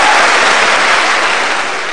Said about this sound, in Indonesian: Oke, kita kasih tepuk tangan deh.